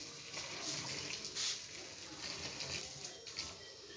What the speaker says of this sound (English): I'm going to pour hot water on it now and see how it goes.